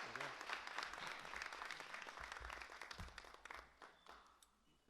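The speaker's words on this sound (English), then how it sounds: "So let's have a big round of applause." Applause for an award recipient at a spring award ceremony, with a crowd clapping steadily, then thinning out and fading toward the end.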